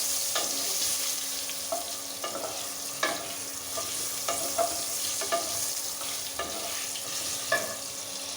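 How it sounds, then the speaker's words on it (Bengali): Potato pieces fry with a little turmeric in a pan: a continuous soft sizzle broken by repeated sharp scrapes and clicks of a spatula stirring, fairly close, no voices. "এবার আমি আলু কটাও একটু ভেজে নেবো সুন্দর করে, লাল লাল করে।"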